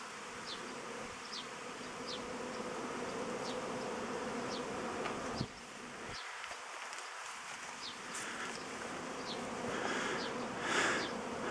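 Honeybees flying around hives at an apiary in May after rain, a dense, steady buzzing drone from many insects close by, with occasional faint bird chirps in the background.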